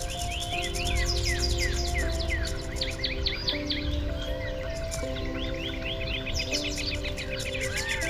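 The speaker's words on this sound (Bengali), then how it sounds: "বিভিন্ন রকমের পাখির শব্দ," Many birds chirp and trill together in a village at dawn after the morning prayer, a dense, continuous chorus of overlapping calls at middle distance with a steady low background hum.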